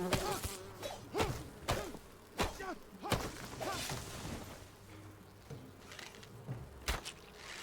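Bees buzz in a video game, with several short buzzing bursts mixed in with thumps and impacts at a moderate, uneven level.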